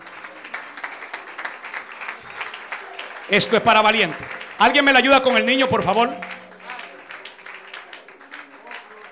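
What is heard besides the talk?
church congregation applauding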